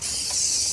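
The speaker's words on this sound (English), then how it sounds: "Spray down everything." Disinfectant spray hisses from an aerosol can in one short continuous burst, bright and close, with nobody talking.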